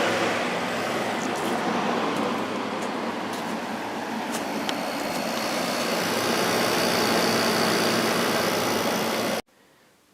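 A Kenmore 8000 BTU window air conditioner, freshly oiled and reassembled, runs with a steady, loud mechanical hum and whoosh of airflow that holds for about nine seconds, then cuts off abruptly.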